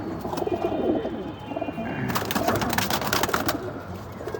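Pigeons cooing in a loft, several birds overlapping in a steady, close, low murmur with rustling and soft calls throughout, no voices.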